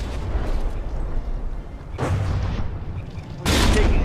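Naval gunfire from frigates battling in the game From The Depths, with a rumbling roar of sustained gunfire and heavy booming blasts, the loudest and most explosive burst landing near the end.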